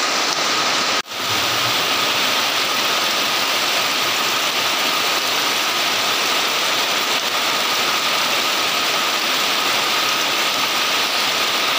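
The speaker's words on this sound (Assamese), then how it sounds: "পুৰা বৰষুণ আহিছে" Heavy rain pours down steadily in a dense, unbroken roar, loud and close, with a brief dip near the start.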